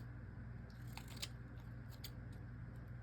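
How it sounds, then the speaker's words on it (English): Scissors snip through a paper label cut from a vintage children's book page, several quiet, crisp cuts spaced irregularly over faint background hiss. "So I'm trimming down another label."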